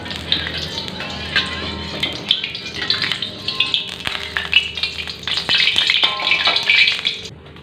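Cooking oil heats in a pan before garlic goes in, giving a soft, crackling sizzle that grows louder toward the end, with faint clatter and no voices.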